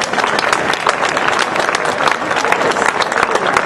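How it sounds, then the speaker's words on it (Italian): An audience claps loudly and steadily for Martina at a short-film presentation evening in Palazzolo, the crowd's applause close and continuous from start to finish. "l'applauso anche per Martina."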